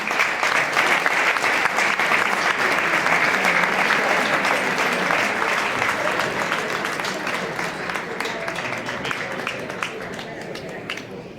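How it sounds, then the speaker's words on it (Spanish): Loud, sustained applause from a large audience welcoming a guest at a ceremony of the Enxebre Orde da Vieira, steady clapping with some cheering that gradually tapers off toward the end. "Así que vamos a recibir con un grandísimo aplauso a José Manuel Brandari."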